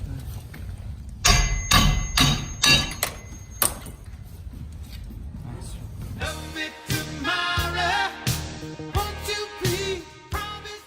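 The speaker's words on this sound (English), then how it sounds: "You can flip the tool around now. You can just kind of tap it up a few times." A Halligan tool taps up against a high-security door hinge during forcible entry, giving a run of close, hard knocks and thuds, then a busier clatter of metallic strikes, with some faint background noise.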